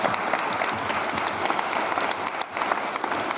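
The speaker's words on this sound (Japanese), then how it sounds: "大きな拍手をお願いいたします" A crowd at the results announcement of a pro-class BMX freestyle contest in Saga, Japan, breaks into loud, sustained applause, steady and dense with only a brief dip near the end.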